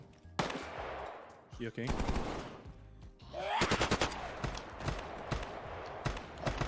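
Bursts of automatic gunfire crackle in the Star Citizen video game, rapid close shots in several volleys with a brief gap between them, while a player speaks briefly.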